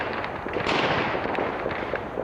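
Illegal New Year's Eve fireworks crackle and pop continuously in a dense, rolling barrage, with a few louder bursts standing out above the steady crackle.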